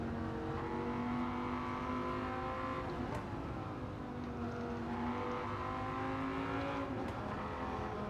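Naturally aspirated Dodge Viper SRT-10 Coupe in Gran Turismo 7 on Tokyo Expressway, its V10 engine growling steadily with rising and falling revs, loud and close, with no talking over it.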